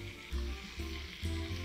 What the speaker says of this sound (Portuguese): eu vou derreter o cheddar com queijo para fazer um molhinho